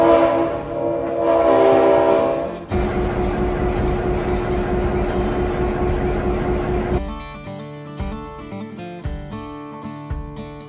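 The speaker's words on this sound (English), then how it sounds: "we are riding the train to the Sealight Festival" A horn sounds, then a loud rolling rumble of a historic passenger train passes close by in Chattanooga, followed by rhythmic clanking and steady wheel noise.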